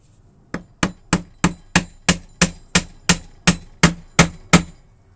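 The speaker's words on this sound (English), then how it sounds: "we're going to use the next part, once we've cut it short, to help us peen it over" A hammer peens over a copper rivet and burr with about a dozen evenly spaced, sharp metallic taps, close and clear with no talking.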